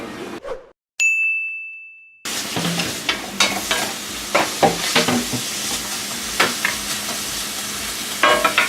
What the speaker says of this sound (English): We're gonna get a nice saute.